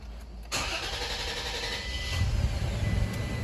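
A car engine cranks briefly and catches, settling straight into a steady, close idle that grows slightly heavier after it starts.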